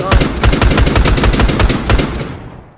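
An SPR 5.56 rifle in a Minecraft gun mod fires rapid bursts of sharp, loud shots in quick clusters that ring out briefly at the end.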